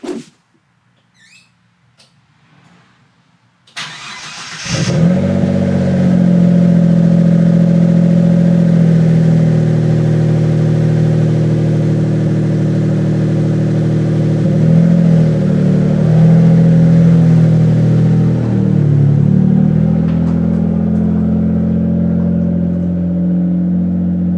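A Mitsubishi 3000GT VR4 engine starts after some quiet shuffling, then runs steadily and loudly close by with a deep rumble, revving slightly now and then as the car is driven out of a garage.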